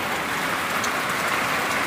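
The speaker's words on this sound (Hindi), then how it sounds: "बारिश हो रही है" Steady rain falls outdoors before dawn in Arang Kel, Azad Kashmir, a continuous even hiss of drops on surfaces filling the whole stretch at moderate, unchanging loudness with no talk.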